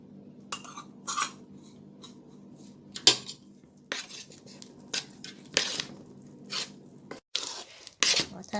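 A spoon scrapes flour off in a kitchen, giving a series of short metallic scrapes and clinks against a dish, spaced irregularly and fairly close, with a voice talking quietly in between.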